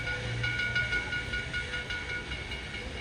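A historic 1880 steam tourist train arrives at a station in the Black Hills of South Dakota, giving a steady broadband rumble and hiss at moderate distance with no speech over it.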